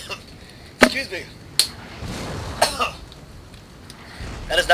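Person coughing repeatedly after swallowing water down the wrong pipe, several sharp, close coughs and throat-clearing bursts spaced out over a few seconds, with quiet game sounds underneath.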